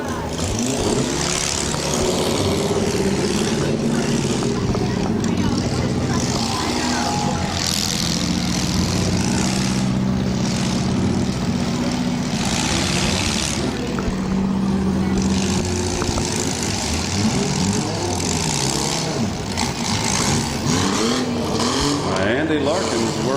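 A demolition derby car, number 83, idles and revs as its engine is refired and kept running on the arena floor, a steady rumbling drone with a commentator talking over it throughout the clip.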